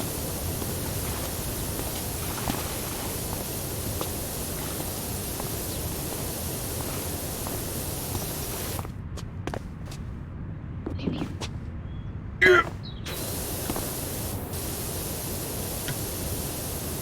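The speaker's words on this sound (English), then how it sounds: "Spray a fake wall with fake water." A pressure washer sprays water onto a wall in the Powerwash Simulator video game, giving a continuous broad hiss that stops for a few seconds near the end and then resumes.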